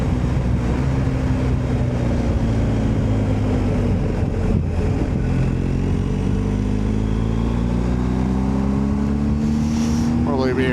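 A 2024 BMW R1250 GS Adventure motorcycle rides slowly and cautiously over mud, its engine droning steadily and loud with pitch rising and falling gently throughout.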